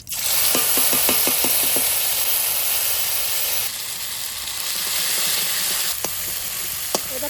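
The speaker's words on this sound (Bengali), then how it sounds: "ফোড়ন দেব তেজপাতা আর শুকনো লঙ্কা জিরে" Bay leaf, dried chili and cumin hit hot oil for tempering, a loud, steady close-up sizzle with a quick run of crackling pops at the start and a few sharp spits near the end.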